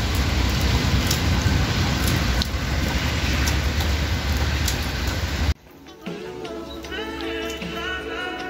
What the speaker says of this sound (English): it's raining, and it's raining serious